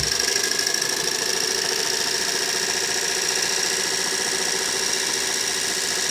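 A Rexair Rainbow D4G vacuum cleaner motor runs directly on 220 V mains power, giving a steady, loud whine with a broad rushing hum that holds evenly throughout without pauses.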